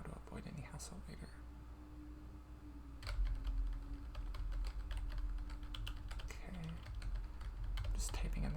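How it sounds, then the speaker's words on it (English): Quick, irregular clatter of fingers typing on a computer keyboard at a hotel front desk, close and soft, with a hushed voice murmuring underneath and a few louder key taps. "Just typing in the rest of the information"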